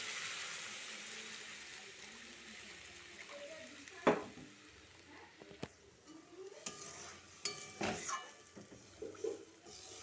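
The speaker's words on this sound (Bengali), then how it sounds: "এবারে আমি জল দিয়ে দেব মশলাটার উপরে" Water poured over frying spices in a pan while cooking fish curry, with a soft sizzle and hiss throughout and a few sharp clinks and splashes, fairly faint and close, with no one talking.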